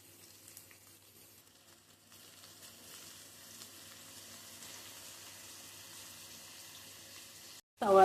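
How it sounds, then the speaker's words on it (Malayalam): Onions fry in coconut oil in a pan, giving a faint, steady sizzle under room hiss that ends in a sudden, louder burst of crackling close by, with no talk. "സവാളയിലോട്ട് കുറച്ച് ഉപ്പ് ഇട്ടിട്ട് നമുക്ക് ഇളക്കാം"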